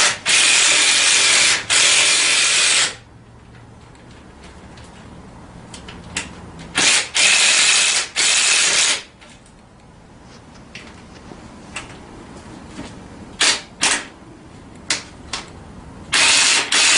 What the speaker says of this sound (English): And then I go ahead and start tightening these 4 screws down.